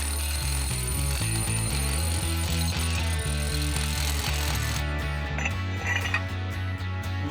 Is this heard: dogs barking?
no